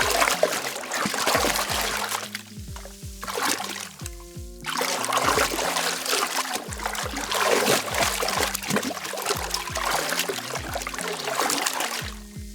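Water trickles and pours for game foley, several separate poured takes that splash and gurgle close and clear, each followed by a brief pause, with no talking.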